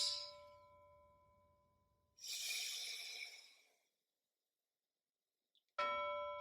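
A mindfulness bell used in a children's calming exercise opens with a fading ring, then a long audible breath follows; the bell is struck again near the end with a bright, sustained chime.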